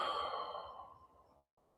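A person exhales slowly and audibly during a guided breathing exercise, one long, close, breathy outflow of air that fades away into near silence.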